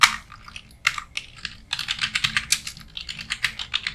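Rapid clicking keystrokes on a computer keyboard while product names are entered into an Excel spreadsheet, a dense irregular run of close, crisp taps with short pauses and no talking.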